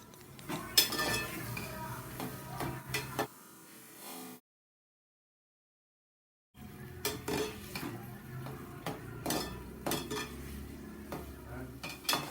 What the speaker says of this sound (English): Fry the onions well till it turns into transparent in color.